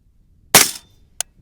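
One suppressed rifle shot through a Griffin MGL-11 suppressor on a Mark 11 Mod 0 gives a loud, close, muffled pop with a brief tail, followed about half a second later by a faint distant impact crack.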